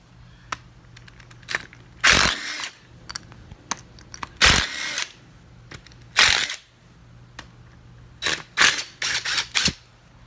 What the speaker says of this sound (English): I've got an impact, electric impact,